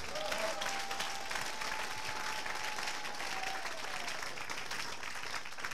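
A church audience at a sermon claps steadily for several seconds, a dense even patter of many hands heard from a little distance, with a thin sustained tone beneath and no talk.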